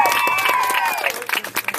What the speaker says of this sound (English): let's get a round of applause for Blake.